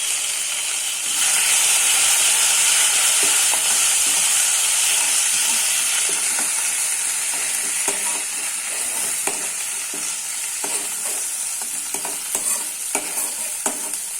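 Green chilli paste and ginger paste sauté in hot oil for samosa filling, a steady bright sizzle that swells after the first second, with scraping spoon strokes clicking through the later half; no talking.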